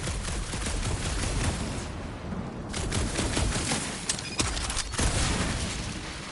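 Rapid gunfire from the Guardians of the Galaxy video game, a dense, continuous barrage of shots and impacts with a few sharper cracks, loud and sustained throughout with no speech.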